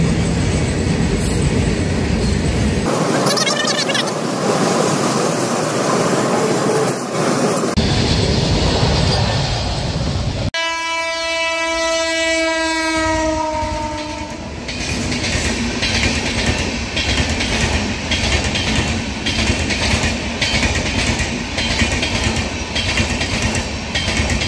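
A freight train rolls past a railway level crossing, a loud continuous rumble and clatter of wagons with a shrill screech of wheels squealing midway, sustained throughout with no talk.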